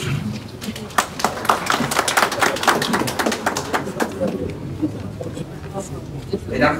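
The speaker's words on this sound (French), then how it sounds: "On l'applaudit." Dense crowd applause with many overlapping claps, steady and fairly loud throughout, a few voices mixed faintly underneath.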